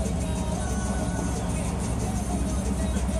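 A loud, continuous engine and exhaust rumble from an old car driving through Boerum Hill, Brooklyn, with broad road noise throughout and no clear pauses.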